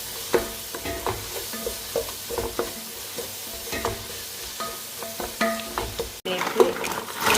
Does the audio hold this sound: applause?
no